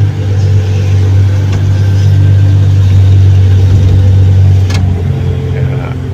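A Komatsu HD785-7 dump truck engine runs loud and close during operator training, a deep droning rumble that swells slightly in the middle before easing off near the end.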